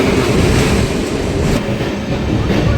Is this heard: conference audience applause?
no